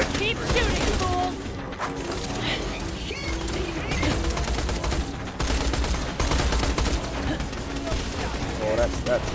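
Dense, continuous gunfire from the video game Borderlands, with rapid overlapping shots and mechanical clatter running throughout, while a voice talks over the action.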